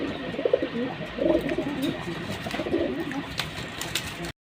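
Pet pigeons coo in soft repeated low phrases close by, with faint background noise around them.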